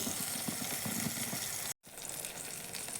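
Chopped tomatoes frying in a pan with onions for a Tamil tamarind kuzhambu, a steady close sizzle and hiss that cuts out briefly and then resumes.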